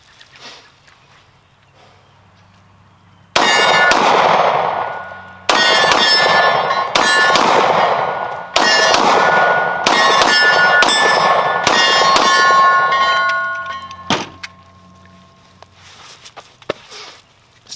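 About seven one-handed handgun shots fired in an uneven sequence, each a sharp crack followed by a long metallic ringing that overlaps the next shot, with quiet before and after.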